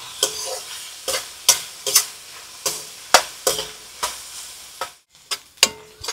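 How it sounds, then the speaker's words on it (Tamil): Onions sautéing in a pan for a village-style crab dish, with a metal spoon scraping and stirring in a steady rhythm of sharp, close knocks over a soft continuous sizzle. "வெங்காயம் நல்லா வதங்கிடுச்சு."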